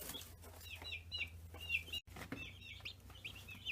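Baby chicks in a brooder peeping continuously, a dense run of high, quick chirps from several birds over a low steady hum of brooder equipment, close but quiet.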